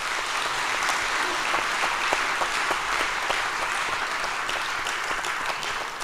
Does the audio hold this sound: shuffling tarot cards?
no